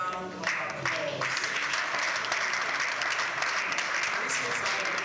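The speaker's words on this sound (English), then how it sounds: "can we give Asbon an outstanding round of applause?" An audience applauds at a live news event, sustained clapping rising after a brief voice at the start and holding steady as a dense crowd patter.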